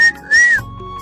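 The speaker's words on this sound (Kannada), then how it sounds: "ನಮಗೆ ವಿಸಲ್ ಬರಲ್ಲ ನೋಡಿ" A short, shrill whistle sounds in two close bursts, the second a sustained, slightly rising tone, loud and near, before it cuts off.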